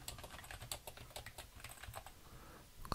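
Steady typing on a computer keyboard while a comment is entered into a web application, rapid irregular key clicks sounding close and continuous throughout with no talking.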